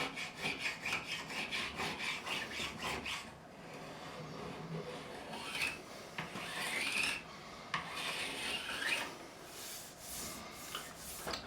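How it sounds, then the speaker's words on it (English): A hand scraper rasps across the wood of a Warwick Streamer LX bass neck during a truss rod repair, in repeated close strokes with brief pauses between passes. "If I want to take a scraper, that's going to do the job much better."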